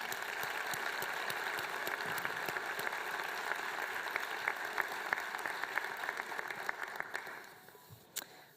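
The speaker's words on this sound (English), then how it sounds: "I'd like to give a round of applause to Susan's parents tonight." Steady crowd applause fills the space at a judge's investiture ceremony, a dense wash of clapping that holds evenly for several seconds before tapering off near the end.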